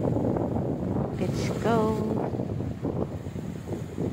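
Strong sea wind buffets the microphone on a boardwalk out over the ocean, a steady low rumbling roar throughout while someone shouts briefly over it.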